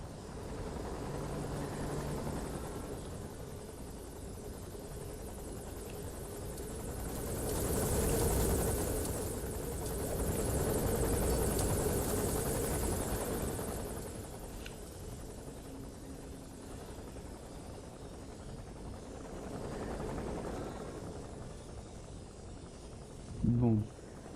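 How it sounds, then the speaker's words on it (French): Helicopter rotor and engine drone from the video game Metal Gear Solid V: The Phantom Pain, a steady low throbbing that swells louder twice mid-clip, with game sounds and a voice talking over it. "cet hélicoptère me met en tension."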